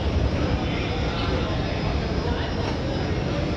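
Airplane engine at Dallas airport, a steady broadband roar with a faint high whine, continuous and fairly loud throughout without clear speech.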